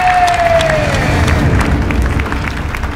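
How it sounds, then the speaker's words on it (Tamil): Crowd applause and cheering for a winner, a busy mix of clapping and excited voices with a brief falling whistle-like tone at the start, loud and tapering slightly toward the end. "இதுல வெற்றி பெற்றவருக்கு எல்லாரும் பலத்த கரகோஷத்தோட உற்சாகப்படுத்துங்க"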